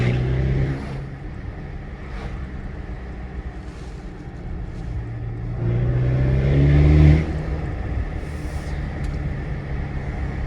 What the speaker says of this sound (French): Tu sens les turbos en plus qui s'ouvrent.